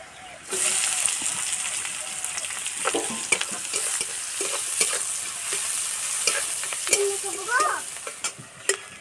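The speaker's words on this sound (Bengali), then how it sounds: "পেঁয়াজ আর রসুন ভাজা হয়ে গেছে" Chopped onion and crushed garlic fry in a pan for a jackfruit-seed mash, with a strong continuous sizzle from the start, frequent stirring scrapes and a brief voice near the end.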